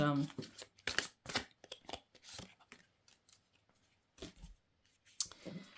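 Oracle cards are shuffled by hand during a card reading, giving soft, close riffling and flicking bursts between stretches of quiet talking.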